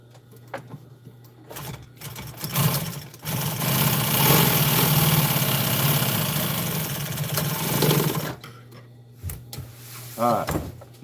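A sewing machine runs steadily for several seconds while the edge of upholstery is stitched for a custom truck storage piece, with a piece of wood in place. The motor hums loudly and continuously, and someone talks briefly before and after the run.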